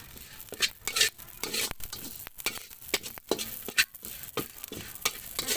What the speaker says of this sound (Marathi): प्रत्येक वेळेस तेच तेल टाकायचं, थोडं भाजून घ्यायचं, लाल होऊ द्यायचं।